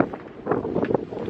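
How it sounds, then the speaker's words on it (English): Wind gusts through a forest in soft, uneven rushes, buffeting the microphone at close range for a brief moment, with no voices. "the wind just came up terribly"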